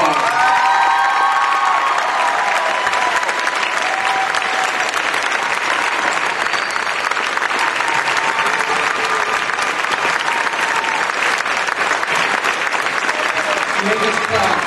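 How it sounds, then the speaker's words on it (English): Crowd at a school state championship celebration claps and cheers loudly for the cheerleaders, sustained dense applause with shouts and whoops rising over it and a few children's voices mixed in. "Let's give them a round of applause."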